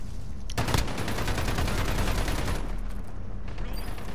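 Continuous rapid gunfire rattles through a Call of Duty: Modern Warfare multiplayer match on a dusty map, a loud sustained burst with a heavy shot near the start and steady automatic fire throughout.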